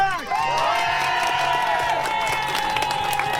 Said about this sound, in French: je vous demande le bruit le plus fort que vous pouvez faire, on applaudit